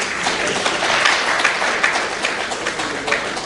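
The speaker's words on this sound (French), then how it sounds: "je vous demande d'applaudir très fort le président" An audience at an official council meeting claps loudly for the president, a dense wash of clapping with scattered sharper claps, sustained and fairly close throughout.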